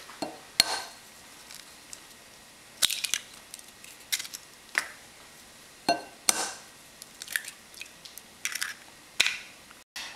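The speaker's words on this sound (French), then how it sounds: "on casse un œuf par 2 personnes dans un bol" Eggs cracked into a bowl for a carbonara sauce, one egg per two people: sharp knocks and clinks of shell against the bowl rim, spaced apart over quiet kitchen background.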